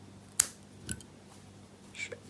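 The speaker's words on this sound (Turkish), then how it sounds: "Bir zincirle sabitliyorum ve ipi kesiyorum." Scissors cutting crochet yarn, a single sharp snip up close followed by a couple of fainter clicks and handling noises in a quiet room.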